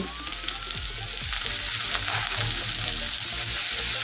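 Capsicum and carrot frying in a pan for paneer noodles, a loud continuous sizzle with a few low knocks of a spatula early on, no voices.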